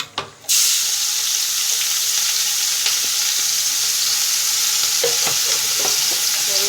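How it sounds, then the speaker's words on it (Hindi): Chili and onion dropped into a pan of frying cumin for baingan bharta burst into a loud, steady sizzle after a brief quiet start, with faint stirring clicks near the end. "तो मेरे जीरा पक गया है, तो मैं ये पा देती हूँ मिर्च और प्याज।"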